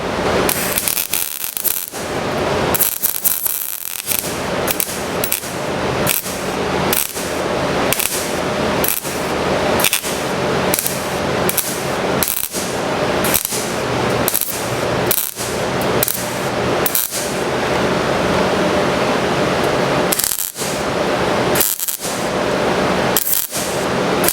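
MIG welding with a Vevor MIG250 welder turned down to 100 amps, a continuous loud crackling buzz broken by frequent short pauses as the torch trigger is released and pressed again, with no talk.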